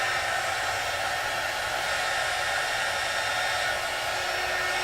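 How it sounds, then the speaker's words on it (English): A heat tool blows steadily and closely for several seconds as it heat-sets mixed media powders on a card from underneath. The whoosh is constant and fairly quiet, with no speech. "we're going to heat set this. And these mixed media powders, you definitely want to heat from underneath."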